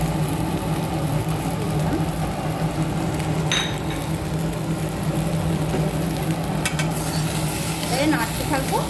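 Spiced mango pieces with salt being stirred in a pan, a steady low sizzle with scraping spoon strokes and a few sharper clinks against the metal.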